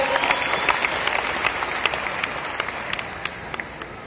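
A large stadium crowd at the Paani Foundation Satyamev Jayate Farmer Cup award ceremony claps loudly and continuously for the foundation, a dense, steady wash of applause with no break.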